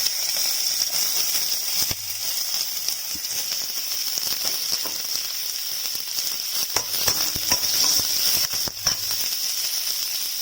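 Chopped onions and garlic sizzle in hot oil in a pan for tomato chutney, a steady close hiss with scattered crackles and a few light clicks of stirring, no voices.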